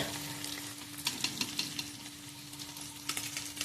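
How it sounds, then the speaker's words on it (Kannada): Mattar paneer frying in a pan: a soft, continuous sizzle with occasional stirring scrapes and clicks, fairly quiet and heard alone with no talk, under a faint steady hum. "ಇದು ಚೆನ್ನಾಗಿ ಫ್ರೈ ಆಗಲಿ ಸ್ವಲ್ಪ ಫ್ರೈ ಆಗಲಿ"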